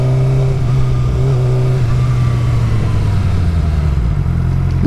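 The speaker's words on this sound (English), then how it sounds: "Another motorcycle, let's go." A motorcycle engine runs loud and close throughout, a steady low drone with rising revs, heard while riding a 2009 Suzuki GSX-R 600 alongside another passing motorcycle.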